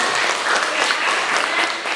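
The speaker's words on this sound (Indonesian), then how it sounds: "beri tepuk tangan untuk Salsa." Students in a classroom give a short, even burst of clapping from many hands at once.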